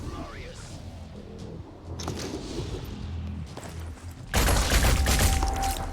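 Gunfire in the video game Terror from the Void: scattered cracks and thuds under a busy mix, then a sudden louder, sustained volley of shots that begins near the end and continues to the close.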